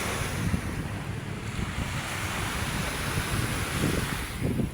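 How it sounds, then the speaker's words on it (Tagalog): Steady sea wind rushes over the microphone at Manila Bay, mixed with the continuous wash of waves and surf, loud and unbroken throughout with no talking. "sarap ng hangin guys oh"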